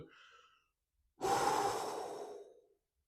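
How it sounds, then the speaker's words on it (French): Deep breathing exercise: a faint short breath, a pause, then one long loud exhalation lasting over a second and fading out, close to the microphone with no talking. "Tu vas devoir mettre de la respiration."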